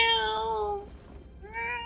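Two synthetic cat meows from a livestream redeem alert, the first drawn out and the second shorter after a brief pause, loud and close with no talking.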